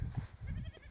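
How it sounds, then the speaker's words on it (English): Goats on a farm, a couple of short low bleats close by, faint against quiet outdoor background. "We got the Weathers and the other goats over here."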